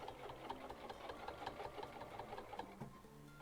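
Rapid, rhythmic mechanical chatter of a sewing machine stitching a travel bag, quiet and steady with repeated needle strokes and a faint motor hum throughout.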